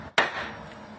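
A hammer strikes the steel chassis leg of a 1997 Mitsubishi Delica under restoration once, a single sharp close metallic impact that quickly decays.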